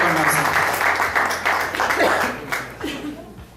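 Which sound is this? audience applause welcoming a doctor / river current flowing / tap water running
audience applause welcoming a doctor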